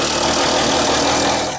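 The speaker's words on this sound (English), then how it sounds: "Drill them out." Power drill boring holes for porch swing bolts in a wooden beam, a loud continuous motor whir held steady for a moment at close range, with no talking.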